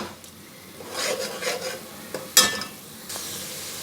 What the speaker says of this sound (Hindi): अदरक लहसुन। फ्राई कर लेते हैं इसको भी 1 मिनट 2 मिनट